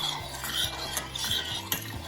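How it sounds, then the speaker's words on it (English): A spoon scrapes and swirls around a pan of sugar syrup over heat for a Blue Hawaii cocktail, soft irregular stirring scrapes and light metallic taps, close and fairly quiet, with no voices. "Now we stir that over heat until the sugar dissolves."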